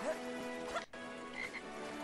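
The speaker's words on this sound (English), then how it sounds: "Can you ride the frog?" Frog croaking in the LEGO Harry Potter video game, a steady buzzy, rasping croak held for about two seconds with a brief break in the middle, clear and fairly close.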